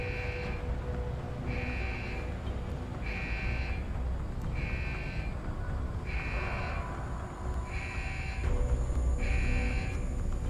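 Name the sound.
alarm sounding in the video game Deus Ex: Human Revolution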